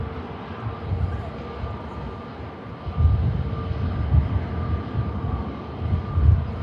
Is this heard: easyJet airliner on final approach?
yes